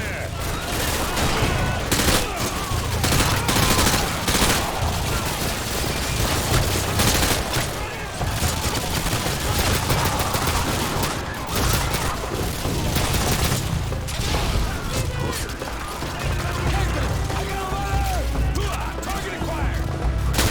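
Sustained heavy gunfire from Call of Duty: Modern Warfare 2, dense automatic bursts and crashing impacts rattling continuously through a battle at a school, with shouted voices mixed into the chaos.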